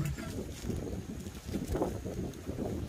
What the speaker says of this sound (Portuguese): Olha o vento forte.